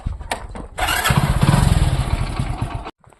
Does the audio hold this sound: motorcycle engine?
yes